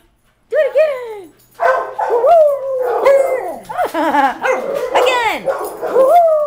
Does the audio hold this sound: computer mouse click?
no